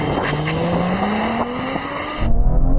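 A 3-litre turbocharged V6 car launched hard from a standstill, engine note rising steadily under acceleration with a brief tyre squeal, then a sharp gear change and a loud burst of rough engine noise at the end.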